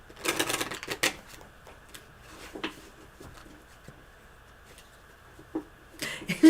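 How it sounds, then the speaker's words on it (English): Tarot cards being shuffled in short riffling bursts, with crisp clicks and flutters at the start, scattered taps in between, and another burst near the end, fairly close and quiet. "I gotta shuffle for Kara."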